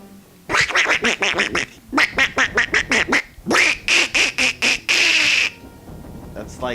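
A man imitates a duck quacking in a raspy, Donald Duck-like voice, delivering several bursts of rapid, nasal quacks in quick succession, loud and close.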